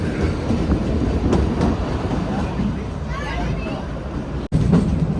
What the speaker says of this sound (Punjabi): ਲੋ ਬਈ ਸਾਡੀ ਟ੍ਰੇਨ ਚੱਲ ਪਈ